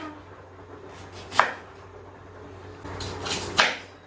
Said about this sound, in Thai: แล้วก็หั่นผักาดเขาค่ะ